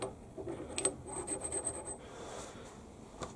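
A hand file rasps over a shop-made lathe quick-change tool post part to remove burrs, giving quiet, close rubbing strokes in a loose rhythm with a few faint metallic ticks.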